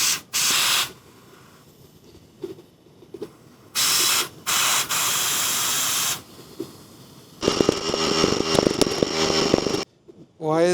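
Compressed air bursts into a cart wheel tire that will not hold pressure, loud hissing blasts of varying length broken by pauses, then a rougher rattling, sputtering stretch near the end.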